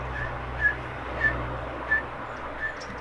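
Person whistling in imitation of a teal duck's call, four short high-pitched whistled notes evenly spaced over a low outdoor hum near ponds.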